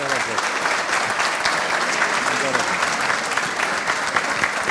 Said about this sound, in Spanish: Un fuerte aplauso para agradecerte por todo.